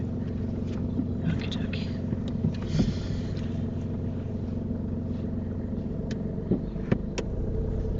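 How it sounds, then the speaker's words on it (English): A car's engine hums low and steady from inside the cabin as it reverses slowly into a parking space on a UK driving test, with faint clicks and small knocks over the drone. "Just reverse back into a park position within 2 car lengths."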